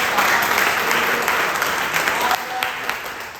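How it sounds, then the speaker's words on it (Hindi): Enthusiastic clapping from an audience at an indoor product launch event for alkaline mineral drops, a steady wash of applause lasting the whole stretch, fairly loud and dense with no voice over it. "तो दोस्तों, एक बार जोरदार तालियां हो जाए"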